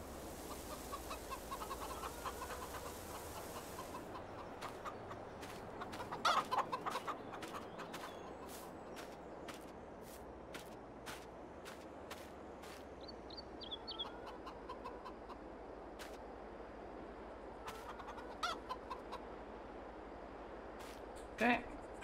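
Chickens cluck in the Farming Simulator 22 game on the No Man's Land map, with soft repeated clucks and a few louder squawks over a steady farm ambience while people talk throughout.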